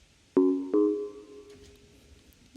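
Two deep, smooth sine-wave bass tones with a loose amp envelope sound in quick succession, each ringing out and slowly fading rather than cutting off.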